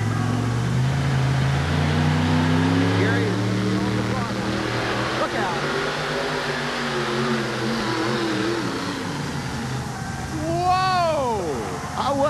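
A loud, steady engine roar from Gary Collins' four-wheel-drive pulling truck as it drags a weight sled down the track at a monster truck show, droning continuously under an announcer's voice, with a rising squeal near the end.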